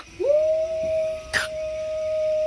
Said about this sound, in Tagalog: Ano ba naman yung asong yun?